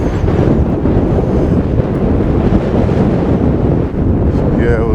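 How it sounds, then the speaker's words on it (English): Strong wind buffets a hillside campsite in fog and cloud, roaring and rumbling continuously against the microphone at close range, loud and unbroken throughout. "Windy."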